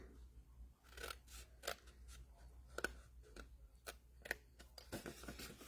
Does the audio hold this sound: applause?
no